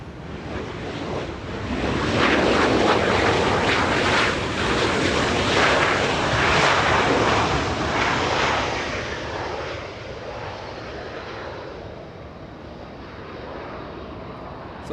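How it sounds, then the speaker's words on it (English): Small CRJ regional jet from San Jose arriving at LAX, a loud rushing jet roar that builds quickly, peaks for several seconds, then slowly fades as it passes, heard alone without talk. "Let's go to a little CRJ arriving."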